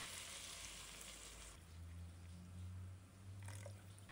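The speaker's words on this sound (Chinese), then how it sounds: "直接倒入一整瓶可乐" A whole bottle of cola poured into a pan of sizzling char siu pork and its marinade, a steady close hiss of frying that shifts into a bubbling simmer as the liquid goes in, no talking.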